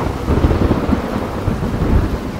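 A strong spring thunderstorm over a lake, with loud, steady heavy rain and rolling rumbles of thunder, close and enveloping, with no voices.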